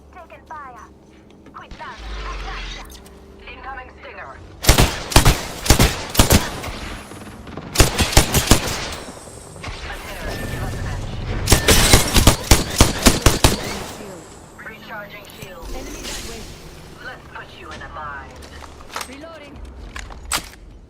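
Gunfire from the video game Apex Legends breaks out in several loud, rapid clusters of shots, separated by quieter stretches of game sounds, with voices talking throughout.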